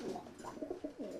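Stock pigeons coo softly in a few short, rounded calls, close but faint, with a low murmur underneath and no talking.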